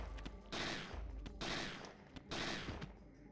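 Gunfire in the Parasite Eve 2 video game comes as three evenly spaced bursts about a second apart, each a sharp blast with a brief tail, fairly quiet overall.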